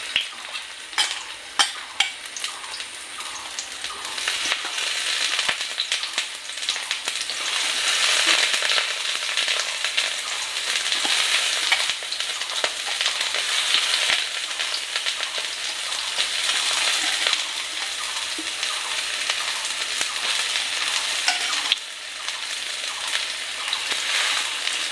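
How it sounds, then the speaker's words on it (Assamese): Soybeans frying in hot oil for an Assamese home recipe, a steady close crackling sizzle with stirring that runs for about twenty-five seconds with no talk. "চয়াবিনখিনি অলপ আজি ভাজি লওঁ।"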